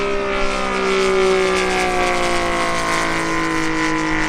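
A Seagull Model limited-edition 87-inch F4U Corsair RC plane with a radial engine drones steadily overhead, its loud continuous engine tone holding with slowly shifting pitch and no talking.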